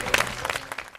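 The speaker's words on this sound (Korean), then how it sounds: "박수 한번 쳐야 되는 거?" A brief round of studio audience applause, a short crackling patter of clapping that tapers off within a second.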